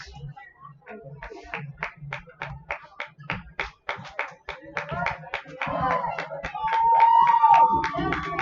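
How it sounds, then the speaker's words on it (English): Fans at a boys varsity high school lacrosse game in overtime clap in a rhythmic, evenly spaced beat that builds into louder cheering and whistling toward the end. "The fans getting loud, showing their support."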